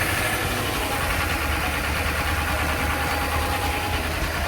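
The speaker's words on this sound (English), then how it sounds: "no cover on the engine" A car engine runs with its engine cover removed, a steady, even idling drone with a light mechanical ticking throughout, heard from inside the vehicle.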